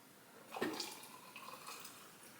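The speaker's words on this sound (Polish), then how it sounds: "Zaleję ją teraz zimną, filtrowaną wodą i to jest właśnie moja macza" Cold filtered water poured into a bowl of matcha, a brief splashing pour that swells then trickles off, faint and close, with no talk.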